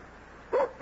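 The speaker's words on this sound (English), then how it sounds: "and my dog." A dog gives two short barks in quick succession, close and fairly loud, with a quiet gap of low background hiss before them.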